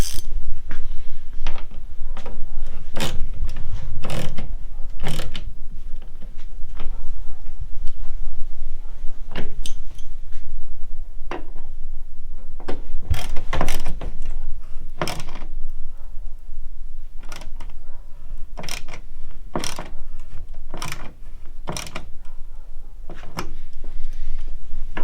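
Tailgate straps on a Jeep Wagoneer being snugged up, a series of sharp ratcheting clicks and metallic clacks at irregular intervals, loud and close.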